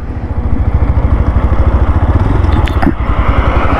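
A 2024 Yamaha FZS V4 motorcycle engine thrums while riding under full throttle, a loud, close, rapid pulsing exhaust beat that holds steady throughout.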